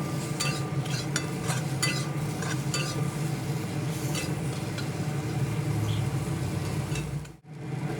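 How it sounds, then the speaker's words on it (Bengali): Potato pieces with salt and turmeric fry in a wok, with a continuous close sizzle and repeated scraping and clinking stir strokes, then a short pause before the end. "আলুর টুকরোগুলো দিয়ে এর সঙ্গে সামান্য লবণ ও হলুদ সহযোগে ভালোভাবে নেড়ে চেড়ে আলুর টুকরোগুলোও বেশ লালচে করে ভেজে"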